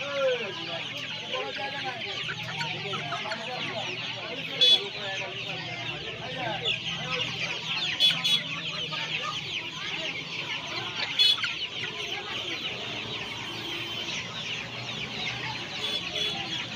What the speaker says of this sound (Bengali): এখানে দেখতে পাচ্ছি সোনালি মুরগি রয়েছে আর তার সঙ্গে দেশি মুরগিও রয়েছে